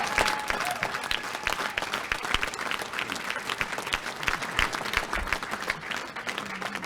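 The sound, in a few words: audience applause during Brian Jean's speech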